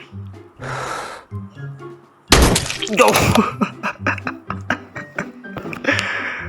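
A sudden loud gunshot in the hunting game American Marksman bursts out midway, followed by scattered sharper cracks and clatter, with music playing throughout.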